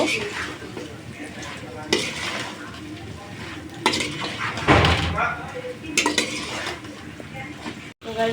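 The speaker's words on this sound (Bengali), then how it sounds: "খুব ভালোভাবে উল্টিয়ে পাল্টিয়ে মশলার সাথে মিক্স করে কষিয়ে নেব" Boiled taro stir-fried with spices in a pan, with repeated spatula scrapes and pan clatter over a constant sizzle, close by, broken by several louder stirring bursts while a person talks.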